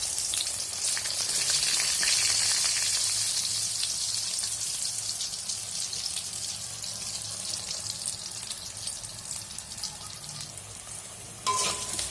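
Pointed gourd (potol) frying in oil in a pan, a steady close sizzle with fine crackling that holds throughout and stays loud, with a brief clink near the end.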